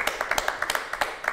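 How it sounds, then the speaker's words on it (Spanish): A small group claps for the Paraguay national football team and coach, the individual claps sharp, close and irregular rather than a full roaring ovation. "Un aplauso para Gustavo Alfaro, la selección paraguaya de fútbol"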